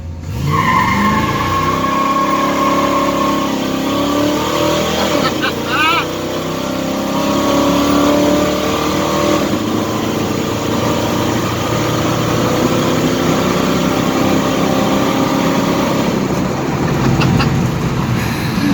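A 1972 GMC Sierra truck engine revs hard and loud, close by, with rising and falling engine tones as it is pushed toward 4,500 RPM. A voice is heard briefly over the engine.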